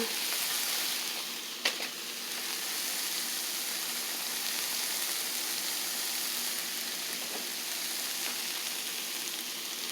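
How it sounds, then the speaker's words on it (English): Nopales cook in a splash of oil in a pan, producing a steady, even sizzling hiss like light rain, with one brief knock early on and no talking. "you add your splash of oil or olive oil or canola oil, right? And then, you know, and then you just let it simmer."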